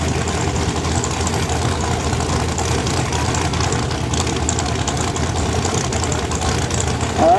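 Nitrous outlaw street cars, a Camaro and a Mustang, idle and rumble at the drag strip start line, a steady loud engine drone with a thick low end and no breaks.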